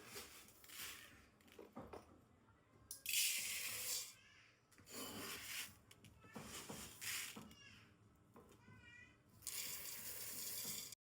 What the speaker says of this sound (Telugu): ఇప్పుడు ఈ రైస్ని శుభ్రంగా నీట్గా కడుక్కొని అరగంట సేపు నానబెట్టుకున్నామండి